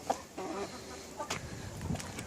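A broody hen clucks in low, throaty bursts, quiet and close, with short grumbling calls spaced irregularly.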